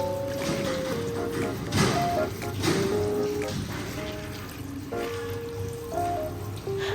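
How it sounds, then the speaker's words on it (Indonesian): Bok choy and carrots rinsed under a running kitchen tap in a vegetable washing container, a steady near splashing and trickling of water that continues throughout with no speech. "Saya cuci dengan air mengalir, dan wadah pencucian sayur ini sangat membantu ya Mam."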